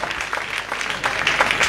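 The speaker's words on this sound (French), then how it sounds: "comme ici, ils applaudissent" Street festival audience applauding a free hat-passing performance, a dense patter of many hands clapping close by, steady and brisk for under two seconds with no voices.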